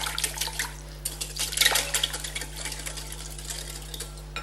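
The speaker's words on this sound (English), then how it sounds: "So we whisk these up." Muffin batter ingredients with chocolate chips whisked in a bowl, giving a quick, uneven clatter and scraping of whisk against the bowl, fairly faint over a low steady hum.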